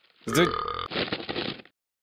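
Talking Ben the Dog, the cartoon dog in a mobile game, lets out a loud, drawn-out burp that runs straight into a second gurgling belch, close and alone.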